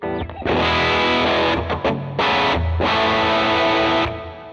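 An electric guitar played through a single gain pedal, the left side of a stacked pair, rings out as loud sustained distorted chords with short breaks between strums, alone with no talking.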